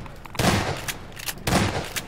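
Two loud bursts of gunfire about a second apart from the video game Half-Life 2: Episode Two, each followed by a brief echoing tail, with no talking.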